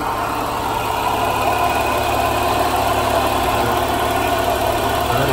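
A 2000 Nissan Maxima engine idles steadily after a misfire repair, a constant mid-pitched hum with light vibration and no voices, holding even for the whole stretch.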